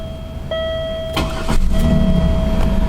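A 1999 Pontiac Bonneville with a new fuel pump cranks with a short whirring start, then catches and settles into a steady low idle, close and fairly loud, with dashboard chimes ringing early on.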